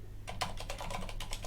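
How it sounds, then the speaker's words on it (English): Quiet, steady typing on a computer keyboard nearby, a quick irregular run of key clicks over a low background hum. "Now, typing it like this"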